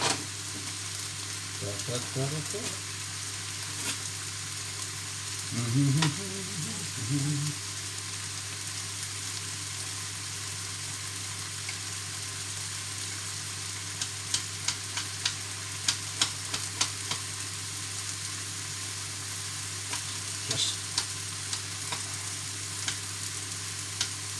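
Garlic and ginger frying in a pan for a keema pie, a faint, steady sizzle over a constant low hum, with a few brief stirring clatters early on and light crackles later.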